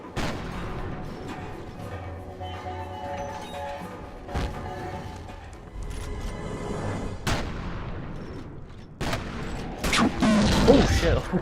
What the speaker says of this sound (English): I threw a grenade there.